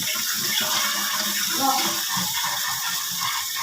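Water splashes and gurgles as it pours steadily into a kettle at close range, a continuous running-water sound.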